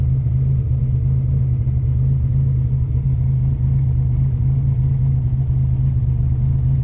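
A car engine idling smoothly and steadily after a new injector install and tune, a constant low, even rumble close by with no revving.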